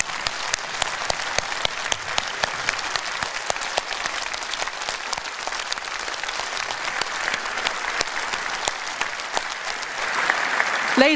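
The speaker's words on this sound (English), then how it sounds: "Let's give them a round of applause" A political rally crowd in West Yorkshire gives council candidates sustained applause, dense, even clapping from a large audience continuing steadily throughout with a few louder individual claps.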